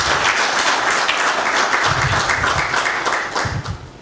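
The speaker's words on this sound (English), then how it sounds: "I think everyone should give them a round of applause." An audience claps loudly and steadily at a university event, a thick crowd of hands that stays dense throughout before thinning at the very end, with no speech over it.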